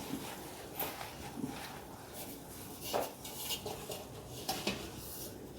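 A lid is set on a pot of mutton biryani, giving a few soft metallic clinks and scrapes over a faint background, quiet and close.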